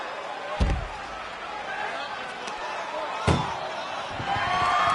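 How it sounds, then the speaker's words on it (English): A vehicle door slams shut twice in a game scene, a heavy thud near the start and another around three seconds in, over a steady background hum with voices in the mix. "Stuff them in and close that ambulance door."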